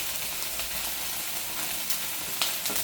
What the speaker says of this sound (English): what I'm going to use is a little bit of olive oil, okay, when I put my onions in